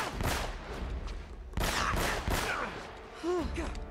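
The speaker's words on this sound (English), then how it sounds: "Now, I know I need to use this dragon sniper." Dragon sniper rifle fire in Uncharted: Drake's Fortune, with several sharp, loud shots spaced apart and a short pause between them, alongside game effects.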